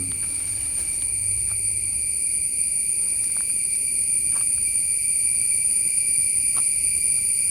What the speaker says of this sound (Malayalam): ചീവീടുകളിലെ ശബ്ദം